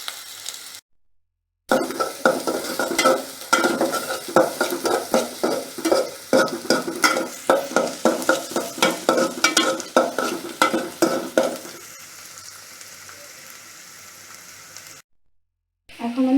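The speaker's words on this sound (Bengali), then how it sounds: "পেঁয়াজ ঢেলে দিচ্ছি। পেঁয়াজটা বাদামি কালার হলে একটা একটা করে মশলা ঢেলে দিব।" Onions sizzle in hot mustard oil for a mutton curry while a spoon scrapes the pan in steady, rhythmic strokes. The stirring stops and a softer, continuous frying hiss remains.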